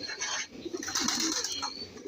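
Shiraji pigeons feeding close by, with bursts of wing flapping and low cooing over a busy rustling background.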